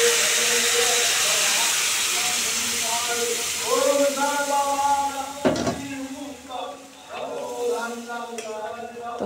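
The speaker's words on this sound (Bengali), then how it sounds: "এখন আমি খিচুড়িটা দিয়ে দেব" Khichuri tipped into a hot pot over fried ginger, giving a loud broad steamy hiss that slowly fades while voices start talking over it partway through.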